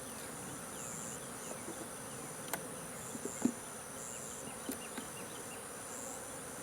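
Honey bees from an open hive make a faint, continuous buzz with a few louder passes as individual bees fly close, and no one speaks.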